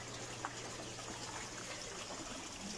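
Water flows steadily into a settlement tank of an aquaponics system, a quiet continuous trickle and gush with a low hum beneath and no talking.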